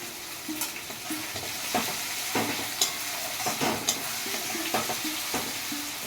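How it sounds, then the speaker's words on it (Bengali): Onions frying with garlic in a pan of caramelised sugar for a homemade chicken curry, stirred with regular scraping strokes over a continuous close sizzle. "পেঁয়াজটা একটু ভাজা ভাজা হয়ে গেলে"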